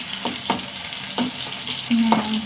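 Kurma curry tempering with small shallots sizzles in a hot pan, a steady frying hiss broken by a few sharp scrapes and stirs of a spoon, close and alone.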